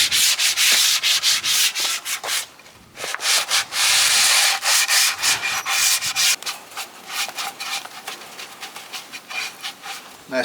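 Wood is hand sanded between coats of paint with quick, rhythmic rasping strokes that come loud and close, then turn lighter and more sporadic toward the end.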